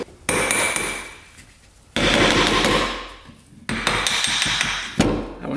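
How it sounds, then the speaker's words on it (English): Hammer blows ring out against a metal part of a 4x4 ATV during a repair, three loud sharp strikes with long metallic ringing decays between them, close and clear with no talk. "We can tap on that with a hammer."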